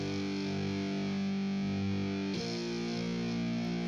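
A thick, heavily distorted synthesized guitar-like note sustains loudly, then abruptly shifts to a new buzzing note partway through, with no other sounds.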